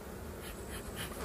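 Honey bees swarm around a hive during an inspection where smoke is being used, making a soft, continuous, fluttering buzz that stays faint and even throughout, with no voices.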